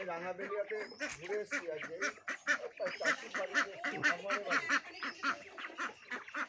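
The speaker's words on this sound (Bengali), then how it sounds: "খাকি ক্যাম্বেল হাঁস দেখো।" Khaki Campbell ducks quacking in a flock at an integrated duck and free-range chicken farm in the Sundarbans, a dense, continuous chorus of overlapping loud quacks and honks, with a person speaking among them.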